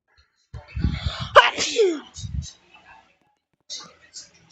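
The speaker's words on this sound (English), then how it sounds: "That was me sneezing, by the way." A single sharp sneeze close to the mic, with soft breathy voices and faint movement before and after.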